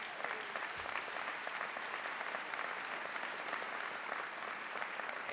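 Audience at a college presidential inauguration giving sustained applause, a steady, even wash of many hands clapping that fills the room without pause.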